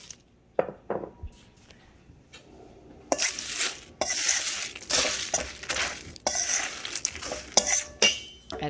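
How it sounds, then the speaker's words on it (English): Cereal and flour are stirred together in a bowl for muffin batter, with quiet taps at first, then a run of loud, close scraping and clinking strokes of a utensil against the bowl. "So combine the cereal and the flour"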